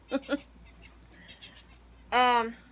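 A cat meows indoors: two short, close calls near the start, then a longer, louder drawn-out meow near the end, with faint background sounds between.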